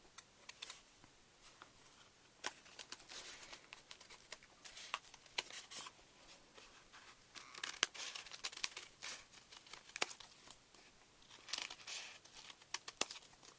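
Scissors cut through paper during a quiet wooden box craft project, with soft crisp snips and crinkles repeating irregularly, faint and close.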